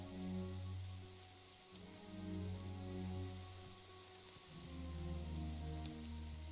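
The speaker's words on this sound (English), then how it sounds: "I like that the rain sounds kept up." Rain falls in the video game Echoes of the Plum Grove as a soft, steady patter and hiss throughout, mixed with low, sustained ambient tones and no voices.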